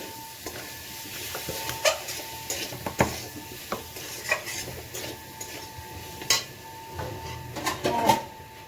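A spice mixture with a little sugar sautéed in a pan, with repeated clacking and scraping strokes of a spatula against metal over a soft, steady sizzle, close and rhythmic.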